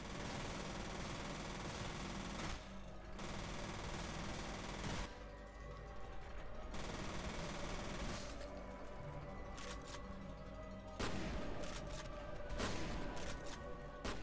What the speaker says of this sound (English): The shotgun's the wrong weapon to do this.